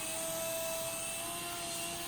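Small coaxial RC helicopters, a Syma S107H or Sky Rover Vigilant on 2.4 GHz, fly nearby with a steady high-pitched motor whine and rotor buzz, loud and continuous without talk.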